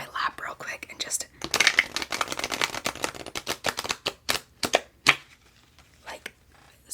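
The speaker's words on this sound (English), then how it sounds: "I really like shuffling these cards because I can get a really good shuffle with them." Tarot cards riffled and shuffled on a lap, a close, crisp run of rapid flicking bursts with short pauses between shuffles, crackly and detailed.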